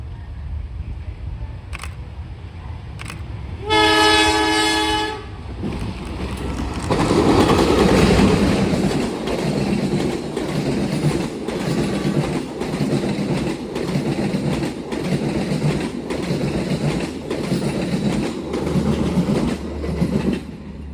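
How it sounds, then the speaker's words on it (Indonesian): Bawonkarta train with vintage-livery CC201-8334 locomotive hauling new-generation stainless steel carriages past a closed level crossing: a loud horn blast, then a long close rumbling pass with steady rhythmic wheel clatter. "Kereta api Bawonkarta dengan lokomotif vintage CC201-8334 ya tadi"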